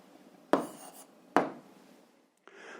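A pen or chalk writes an algebra answer in short strokes. Two firm scratching strokes come first, then a softer rub after a brief pause, all close and quiet with no talk.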